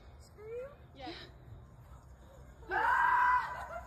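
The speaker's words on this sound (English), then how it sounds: "Alexa, you're supposed to scream." A smart speaker plays a scream sound on request at a home Halloween gathering, giving a loud sustained wailing scream near the end after some brief vocal sounds and background murmur.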